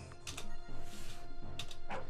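Dog barking in the game Unterwegs in Düsterburg, a few short yips and barks over a buzzing game backdrop, moderately loud and close.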